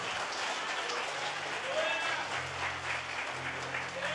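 Church congregation applauding during a service, a steady wash of clapping at moderate distance, with a low hum beneath it.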